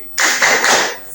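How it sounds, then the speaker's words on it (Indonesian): Students in a classroom in Medan perform a short rhythmic spirit clap, a quick, loud burst of many hands striking together at close range, lasting about a second before fading off. "Tepuk semangat."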